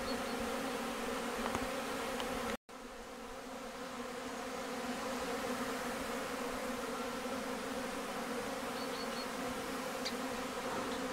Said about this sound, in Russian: И пчелы пользуются моментом, облетываются перед похолоданием